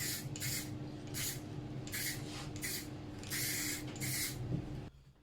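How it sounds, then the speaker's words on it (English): Spray lacquer hissing from an aerosol can onto a DIY bathroom cabinet, six or seven short close bursts of even spray with brief pauses between, then it stops. "I applied several coats of this spray lacquer"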